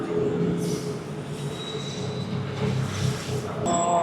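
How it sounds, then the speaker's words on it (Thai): Electric train passing at a Bangkok street scene, a steady rolling rumble with rising and falling whoosh and a brief high squeal near the end, moderately close, with no speech. "เอารถไฟฟ้ามาอีกแล้วรถไฟฟ้ามาอีกแล้ว"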